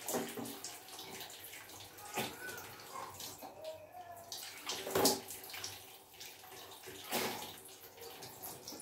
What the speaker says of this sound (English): then rinse with good amount of water.